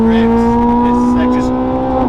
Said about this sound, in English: And this engine just revs, doesn't it?